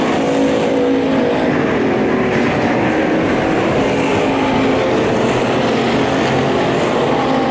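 Race cars circling Revolution Raceway Park, a constant loud roar of engines blending together with no break, the pack sounding near and heavy throughout.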